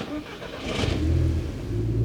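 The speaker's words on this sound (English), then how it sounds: "let's put that stage 2 tuned 2-litre turbocharged engine through its paces" A stage 2 tuned 2-litre turbocharged engine in a VW Golf R Mk6 revs up from a low rumble into a rising, sustained roar, loud and close.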